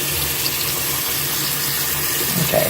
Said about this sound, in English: let's put on the cold water.